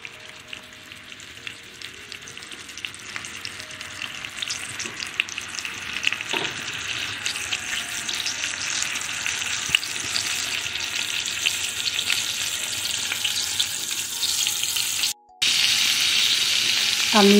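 Chicken sizzling and frying on a tawa griddle pan, a steady close crackle with occasional stirring scrapes, continuing loud throughout with a brief drop near the end.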